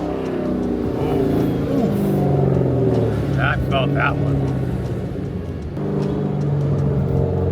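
A Dodge Hellcat fitted with a Formula Z pipe exhaust rumbles deep and loud nearby, its revs swelling and easing, while someone speaks briefly over it.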